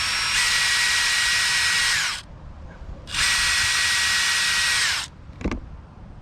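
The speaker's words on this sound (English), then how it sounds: "So I got a 5/64 drill bit. So we're just gonna do a couple little pilot holes here." Electric drill with a 5/64 bit boring pilot holes for an hour meter mount on a Little Wonder leaf vacuum: two steady, loud high-pitched whirring bursts of about two seconds each, separated by a pause, with a brief clatter afterward.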